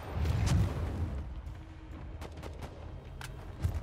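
A gun in Vampire: The Masquerade – Bloodhunt fires several scattered shots, a heavier burst early, then sharp cracks at irregular intervals over rumbling game ambience, moderately loud with no talk.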